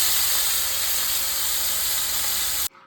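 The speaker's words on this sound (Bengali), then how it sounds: "মাছগুলো তো ভেজে নিই।" Fish frying in hot oil gives a steady, close, loud sizzling hiss that cuts off abruptly near the end, with no voices.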